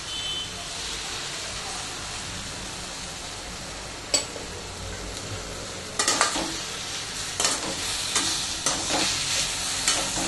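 Gobi manchurian stir-frying in a pan with soy sauce added, a steady close sizzle and hiss of frying cauliflower with scattered clanks and scrapes of a spoon against the pan in the second half.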